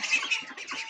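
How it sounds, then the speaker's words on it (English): A friendly pet goose gives a quick run of short, nasal honking calls, close to the microphone, with no talking over it. "He likes being petted, and he's a friendly goose."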